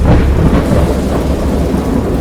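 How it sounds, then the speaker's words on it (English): A violent thunderstorm with heavy rain, loud and continuous, deep rolling thunder rumbling under a dense steady wash of rainfall, with no voices. "I know that I heard pearls of thunder and other tones which nature utters only in her wildest moods"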